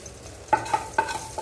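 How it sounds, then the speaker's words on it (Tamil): A brief burst of sizzling with a few sharp crackles and pops as hot mustard-seed tempering is poured into a simmering curry. "இப்போ கடுகு தாளிக்காச்சு அதையும் கொட்டிடலாம்"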